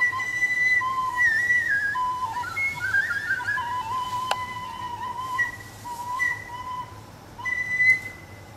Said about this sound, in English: What the fuck is with this whistle anyways?